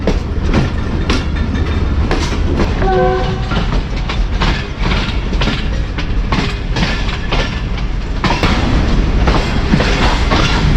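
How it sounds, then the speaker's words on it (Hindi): The Mianwali Express arrives at the Kundian Junction platform with a loud, close rumble of wheels and clattering rail joints. A brief horn-like tone sounds partway through, and the noise stays heavy throughout. "जहां पर 148 डाउन मियाँ वाली एक्सप्रेस पहुंच रही है"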